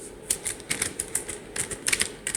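Quick, uneven clicks of keys on a computer keyboard as code is typed, close and crisp, in short bursts with brief pauses, and no talking.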